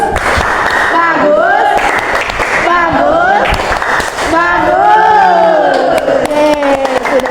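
A primary school class does a rhythmic 'tepuk bagus' chant-clap in a social studies lesson, patterned bursts of hand claps interleaved with children's chanting voices, lively and close.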